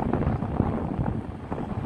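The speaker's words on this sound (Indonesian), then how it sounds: "Cuaca masih gak bagus ini Angin masih kencang" Strong wind buffets the microphone at a beach, a continuous rough rumble with no clear gusts or voices.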